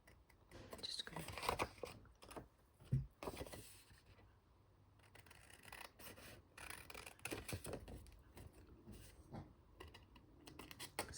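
Scissors or a blade cutting through a 6x6 paper panel along its score line, a close run of crisp rasping and snipping strokes with short pauses and no talk.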